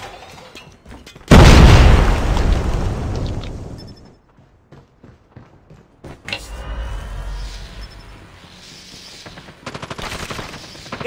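A frag grenade goes off in the Call of Duty Mobile shooter game: a sudden, loud, close boom that rumbles and fades over a couple of seconds, followed later by scattered gunfire and battle noise.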